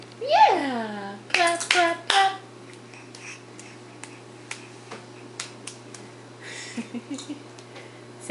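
A small child claps his hands at a table, producing a few sharp, close claps in a quick burst early on, then scattered lighter taps; an adult's voice and baby babble come before the claps, with a steady hum underneath.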